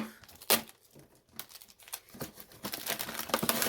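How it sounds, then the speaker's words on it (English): Paper being snipped off with scissors in a quiet room, a few short crisp cuts and crinkles, close and fairly soft, with no talking. "I'm just going to take scissors and just cut that off."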